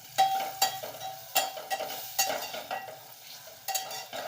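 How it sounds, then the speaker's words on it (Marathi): A spatula scrapes and stirs bitter gourd curry with chili in a frying pan, irregular close clinks and scrapes over a soft sizzle, no voices. "चांगलं असं मिक्स करून घ्यायचं."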